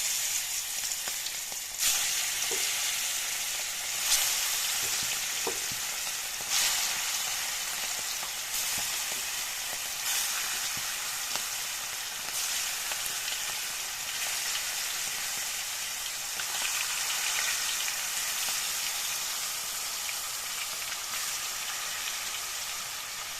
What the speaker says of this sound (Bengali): তেলখিনি মোৰ গৰম হৈছে এতিয়া মাংসখিনি মই পিছে পিছকৈ বহুৱাই দিম